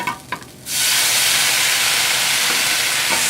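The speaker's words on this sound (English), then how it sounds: "So I'm gonna go ahead and saute this up." Potatoes and leeks sauté in a hot pan for a potato and leek puree soup, bursting into a loud, steady sizzle and hiss after a brief quieter moment at the start, continuing strongly without any talk.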